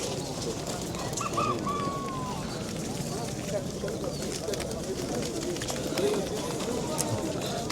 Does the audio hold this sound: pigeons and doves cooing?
yes